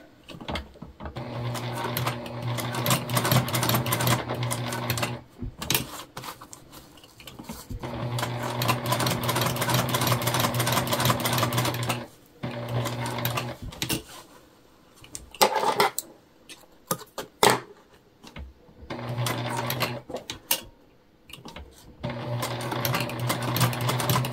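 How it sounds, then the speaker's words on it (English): A sewing machine top-stitches a bag tag in loud, steady bursts of rapid mechanical stitching, close by. Pauses separate the runs and bring brief handling clicks, and no one speaks. "When you put a bag tag on, you're just doing a basting stitch or a top stitch"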